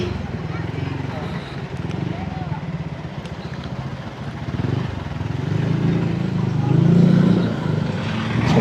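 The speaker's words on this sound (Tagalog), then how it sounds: "Pakinggan natin yung muffler." A scooter's exhaust muffler rumbles with a low, steady drone that swells slightly toward the end, heard while riding with speech over it. The machine is one of a Yamaha NMAX Turbo or a Honda PCX 160.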